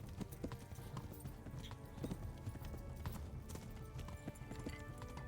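Horse hooves clip-clop at a steady walking pace in the Kingdom Come: Deliverance video game, close and even, with faint game ambience behind.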